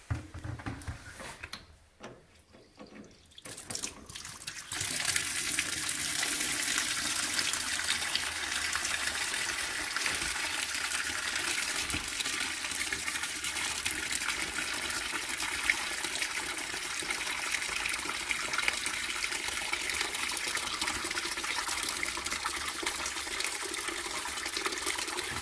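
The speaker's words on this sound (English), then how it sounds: "we need to drain a cold water from the pipes." Cold water drains from the pipes of a long eight-room building through a tap. After a few seconds of quiet handling and clunks, a loud, steady gushing stream starts and runs on without letup.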